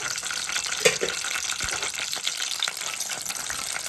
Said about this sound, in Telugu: ఇప్పుడు మనం ముందుగా పచ్చిమిర్చి వేపుకోవాలి.